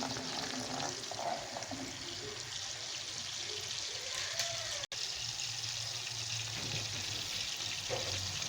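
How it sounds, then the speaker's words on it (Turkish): Organic butter melts in a pan with a soft, continuous hiss and faint crackle, steady and close, with no voices over it. "Tereyağımızı eritiyoruz."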